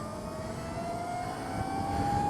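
Energica EVA Ribelle RS electric motorcycle accelerating, a rising electric motor whine climbing steadily in pitch over a broad rush of wind and road noise, close and continuous.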